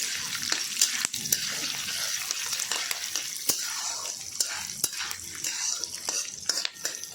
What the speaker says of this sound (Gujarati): આ રીતે દાળિયા નાખી દઈશું, લીલા મરચાં નાખીશું, આ રીતે શેકી લેવાનો છે